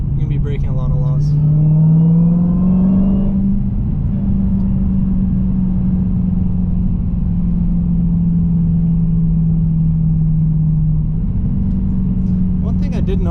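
A Dodge Challenger Hellcat Redeye pulls hard at full throttle, a deep loud engine roar rising in pitch, dipping at a shift and climbing again, with a person talking over it.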